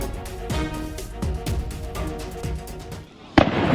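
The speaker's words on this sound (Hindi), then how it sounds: "इस वीडियो में आतंकियों को फायरिंग करते हुए देखा जा सकता है।" Rapid gunfire from attacking militants cracks out in a sustained burst of sharp, evenly spaced reports, heard from some distance, then pauses before one louder close bang.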